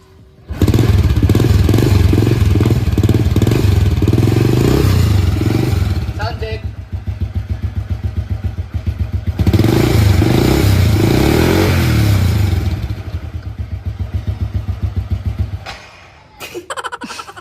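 Engine of a 16-year-old Honda Wave 100R, a 100cc air-cooled single-cylinder four-stroke motorcycle with two valves and a four-speed semi-automatic transmission, revving loudly and steadily up close, easing off midway before rising again, then cutting off near the end.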